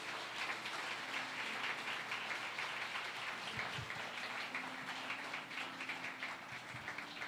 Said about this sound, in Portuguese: Vamos dar uma grande salva de palmas a Jesus?